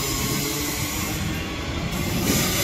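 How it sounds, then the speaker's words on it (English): SMU 274 coupled with IMU 163, an electric multiple-unit passenger train departing Salisbury station on the Beenleigh Gold Coast line, gives a loud, steady, close rumble and hiss of wheels and motors throughout. "In front of me we have SMU 274 and friend departing for Ferny Grove"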